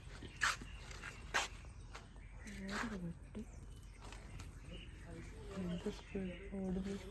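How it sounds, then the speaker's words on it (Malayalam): A few sharp barks and whimpering yelps from a dog mixed with a person talking nearby. "പട്ടി"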